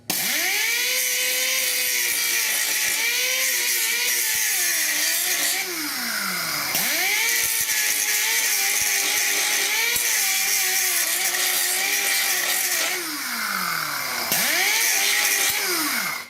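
A power grinder works on a rusted corner of the radiator core support of a 1969 Chevrolet C10 pickup, a loud continuous whine that rises and falls in pitch as the load changes, close up with no talking.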